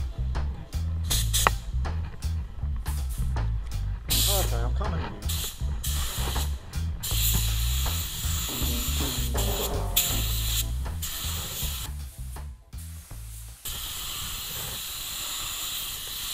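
A spray gun laying a second coat of paint on a black Mercedes in a home garage, a loud continuous hiss with short stops and restarts, and a voice talking over it at times.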